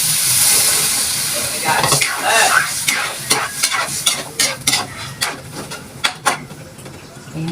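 A pan sauté starts with a hissing sizzle, then gives way to a rhythmic series of sharp spatula scrapes and knocks against the pan, close and fairly loud.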